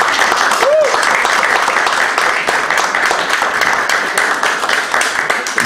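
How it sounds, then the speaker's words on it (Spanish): A church congregation applauds warmly for a preacher, dense steady clapping from many hands filling the room for several seconds, with a brief whistle-like tone near the start. "Lo recibimos con un aplauso."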